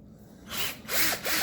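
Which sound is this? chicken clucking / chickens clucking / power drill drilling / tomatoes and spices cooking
power drill drilling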